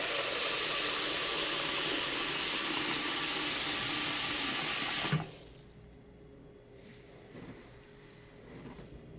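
Water runs loudly from a tap into a washbasin fitted with a push-button drain stopper, then cuts off abruptly halfway, leaving faint draining and gurgling.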